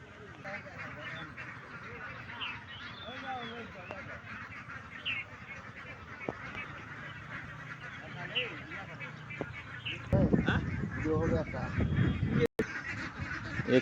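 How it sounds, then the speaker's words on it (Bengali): Ducks at a duck farm beside a river honk and quack in a loose, overlapping flock, close at hand, with a louder burst of calls near the end and a voice heard among them. "এখানে অনেকগুলো হাঁস রয়েছে, পার্শ্বে নদী বয়ে গেছে"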